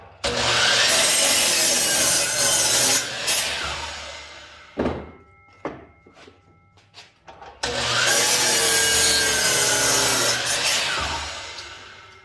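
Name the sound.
saw cutting wood block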